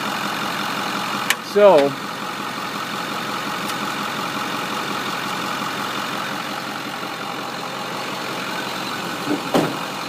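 A 2008 Ford F250 Super Duty diesel engine idling at a steady, continuous rumble, with someone briefly speaking over it and a few small clicks.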